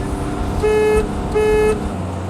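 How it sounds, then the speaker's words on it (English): Two short, thin car horn honks sound over a steady engine idle, each lasting under half a second with a brief gap between them. "Pathetic horn. I mean, listen to that."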